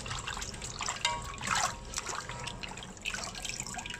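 Water trickles and splashes while chunks of needlefish are washed in a pot, a soft continuous running stream with small drips and sloshes, heard alone and fairly quiet.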